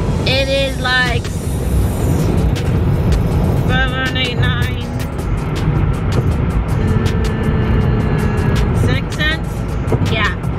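Steady road rumble and engine drone fill a car's cabin on the drive home, continuous and fairly loud, with brief snatches of voices now and then.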